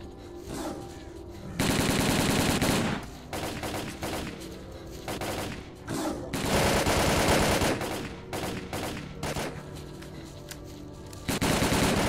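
Bursts of automatic gunfire in S.T.A.L.K.E.R.: Call of Pripyat, loud sustained machine-gun volleys broken by shorter rattling bursts and brief lulls across the firefight.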